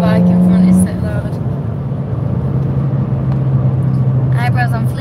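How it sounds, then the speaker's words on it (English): A loud motorbike engine drones close by in traffic with a steady low rumble, people talking over it throughout. "that motorbike in front is so loud"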